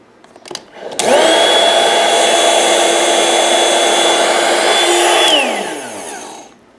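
The built-in electric pump of an Intex Dura-Beam raised twin airbed starts with a click and hums loudly and steadily up close, then winds down over its last second.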